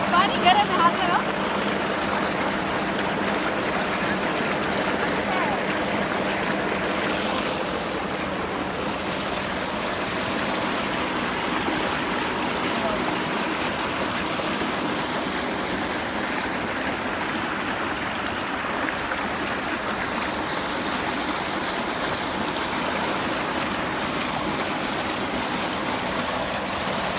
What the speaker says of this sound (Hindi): ट्यूबवेल से खेतों को पानी दिया जाता है